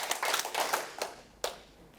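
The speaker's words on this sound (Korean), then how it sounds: "박수 4번 시작." A recreation class group claps in unison on cue, a few sharp synchronized claps in quick succession followed by a pause and one more clap, moderately near with no talking.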